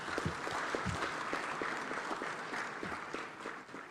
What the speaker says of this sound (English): Let's give our Papa another round of applause.